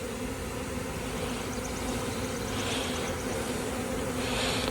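A honeybee swarm buzzing outdoors, a steady dense drone of many wings holding constant throughout, with no talk.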